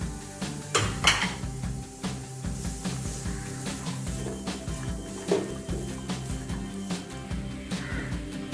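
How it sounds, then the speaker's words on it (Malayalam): A spoon scrapes and clatters steadily in a pan while egg and cooked green peas are stirred for chicken fried rice, with a faint sizzle beneath the continuous metallic knocks. "ഇതെല്ലാം കൂടി നമുക്ക് ഇളക്കി കൊടുക്കാം."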